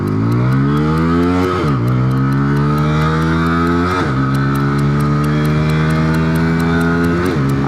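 Bajaj Pulsar N160 160cc motorcycle accelerating hard from first gear on a road with traffic, its engine note climbing steadily and dropping at each of several gear shifts, loud and close throughout.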